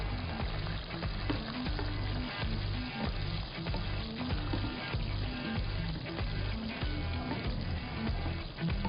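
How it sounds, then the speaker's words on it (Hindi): Samosas deep-frying in hot oil give a steady, dense bubbling sizzle that carries evenly from start to finish, close and unbroken, with no voices. "जो समोसा फ्राई होता जा रहा है मैं उसको निकालती रहूँगी"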